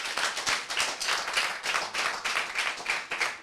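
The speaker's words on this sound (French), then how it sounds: "Applaudissez, s'il vous plaît" A school class claps in a fairly rhythmic, pulsing pattern, roughly three beats per second, a small group of hands close by with even loudness throughout.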